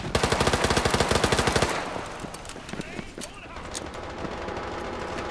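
Gunfire in a World War 3 team deathmatch match on the Moscow map: a rapid, loud burst of evenly spaced shots opens, then gives way to scattered, more distant shots and clatter over a steady background din.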